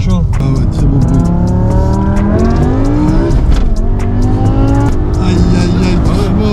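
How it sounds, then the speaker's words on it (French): A BMW M5 V10 engine, not yet fully warm, revs up in repeated rising sweeps, loud and close, with people talking over it. "On va monter Le V10 c'est pas encore bien chaud. Ah ouais, très beau bruit."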